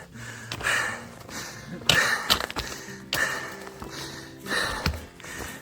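A hiker heading uphill pants heavily, each loud, rough breath arriving in a regular rhythm of bursts about a second apart, close to the microphone with faint footfall taps between.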